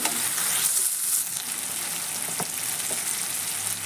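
Green peas mixture frying in hot oil for vattani kalu palya, a steady close sizzle throughout with a few faint clinks partway through, no voices.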